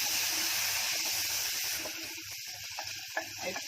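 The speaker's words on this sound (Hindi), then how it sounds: "अब इसको जरा नरम होने तक भूनूंगी।" Tomatoes frying with dried bombil fish in a pan for a Konkani pavte hidda, giving a steady close hiss and sizzle that thins out and softens toward the end.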